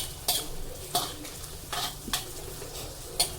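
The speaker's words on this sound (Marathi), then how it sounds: "आता मी यामध्ये एक छोटा चमचा होईल इतकी आलं लसणाची पेस्ट घालत आहे पेस्ट देखील आपल्याला परतून घ्यायची आहे" Ginger garlic paste frying in a pan, a soft sizzle under repeated scraping strokes of a spoon, four or five distinct stirs spaced roughly evenly, close and fairly quiet.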